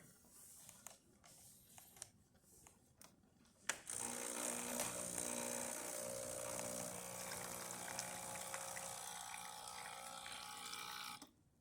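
A Breville Barista Express espresso machine dispenses hot water after a service and tune-up, a few clicks and gurgles giving way to a steady, hissing, pumping flow that runs for several seconds before cutting off.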